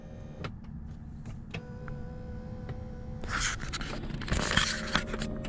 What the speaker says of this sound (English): one to wrestle with the electric seat controls